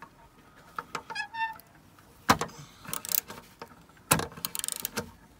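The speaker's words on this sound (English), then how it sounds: "Got my socket tapped onto the suspected broken nut." Metal socket wrench clinks and ratchets against a broken exhaust nut on a Ford Fiesta ST, a handful of sharp, scattered clicks and taps close by in an otherwise quiet workspace.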